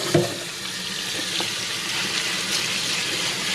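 Hot water runs steadily from a kitchen tap into a sink, a constant close rushing splash over a few seconds with a brief clatter at the start and no speech.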